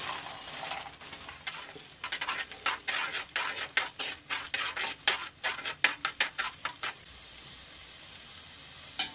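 Raisins frying with cashews in hot ghee for sweet kesari: a soft background sizzle broken by rapid, irregular popping crackles and stirring clicks, close and moderately quiet, with no talking.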